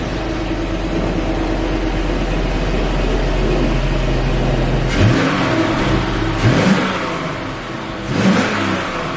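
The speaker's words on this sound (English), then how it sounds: "So this is what the truck sounds like right now." A pickup truck with its stock exhaust and muffler idles and revs steadily, the exhaust quiet and subdued. Brief intake swells rise at intervals over a constant low engine rumble, and no one speaks.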